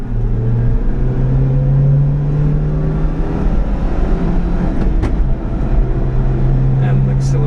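A 1991 Subaru Sambar kei truck, 4WD Super Deluxe, accelerating in four-wheel drive, its small engine droning loud and close as a low tone climbs steadily beneath a constant road rumble, with someone speaking over it.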